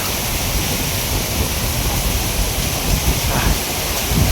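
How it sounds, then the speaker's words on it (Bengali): Strong wind blowing along a riverbank, heard as a loud, steady, close rushing roar that continues unbroken with no talk over it. "কি সুন্দর বাতাসটা ছাড়ছে"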